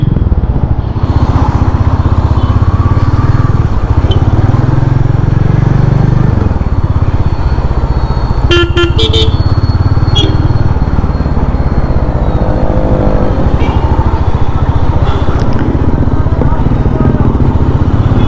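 A Royal Enfield Meteor 350 motorcycle in Fireball Matte Green running nearby, its single-cylinder engine giving a loud steady thumping idle throughout with a few short rattles and clicks over it.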